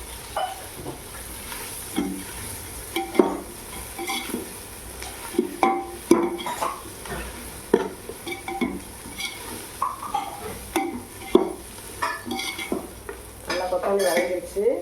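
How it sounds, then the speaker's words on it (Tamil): Fresh coriander sautéed in a pan for ghee rice, with a utensil repeatedly scraping and stirring through a soft background sizzle, close and moderately loud, in irregular bursts without talk. "நல்லா கொத்தமல்லி வதங்கிடுச்சு."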